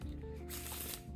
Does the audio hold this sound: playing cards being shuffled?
yes